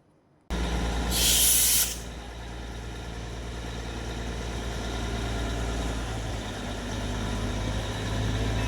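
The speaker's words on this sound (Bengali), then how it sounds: "বাতাসিয়া লুপের ভেতরে ঢোকার পরেই শুনতে পেলাম স্টিম ইঞ্জিনের আওয়াজ" The Darjeeling toy train's steam engine at Batasia Loop lets out one short, sharp hiss of steam, followed by a steady low rumble of the engine idling nearby.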